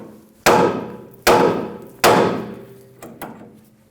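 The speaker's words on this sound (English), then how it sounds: "Give the knuckle a bonk" A hammer strikes a 2005–2015 Toyota Tacoma steering knuckle to free the tie rod end: three loud, ringing metallic blows about a second apart, then two lighter taps.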